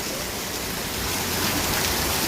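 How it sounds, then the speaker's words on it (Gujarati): Heavy downpour in Junagadh district, Gujarat, pours down in a dense, steady hiss that swells slightly louder, with no other sounds standing out. "વહેલી સવારથી ફૂલ વરસાદ ચાલુ હે"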